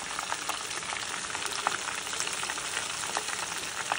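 Shrimp tempura frying in hot oil, a steady, dense crackling sizzle with small pops throughout, close and continuous with no talking.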